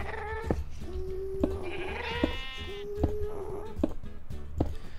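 A sheep in the Minecraft video game bleats several times in a row, clear and close, with sharp clicking hits and a faint game backdrop between the calls.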